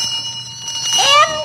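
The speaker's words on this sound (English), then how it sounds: "Oh, here's your bell, Marilee." A telephone bell rings on a party line in a 1946 radio drama, a bright metallic trill rising near the end, close and brief over a voice talking.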